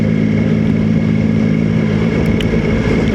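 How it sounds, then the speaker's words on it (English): A Royal Enfield motorcycle rides past close by, its steady, loud engine drone holding a low thumping tone throughout, with no talk over it. "It's the same bike, Royal Enfield."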